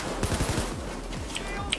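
Rapid automatic gunfire in the heist shooter Payday 2, a dense rattle of repeated shots with sharper cracks scattered through, steady and fairly close for the whole burst.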